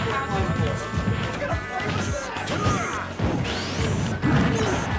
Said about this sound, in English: Fast attack connecting.